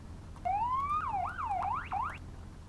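A Roblox police car siren wails, sweeping up and then warbling rapidly up and down, loud and clear over a quiet low hum.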